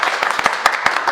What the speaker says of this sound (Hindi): एक बार इनके लिए जोरदार ताली बजाओ भाई।